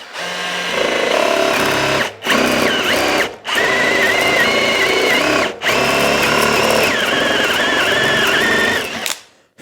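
Forstner bit boring hinge recesses into a hard oak door frame, a loud continuous whine running in several long bursts separated by brief pauses.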